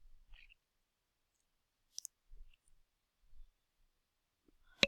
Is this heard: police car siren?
no